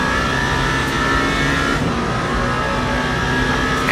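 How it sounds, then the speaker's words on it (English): Engine of a GT3 Mustang race car from Le Mans Ultimate as it runs into the gravel at the 24 Hours of Le Mans, a steady loud roar held through the whole stretch, with no one speaking. "GT3 Mustang into the gravel."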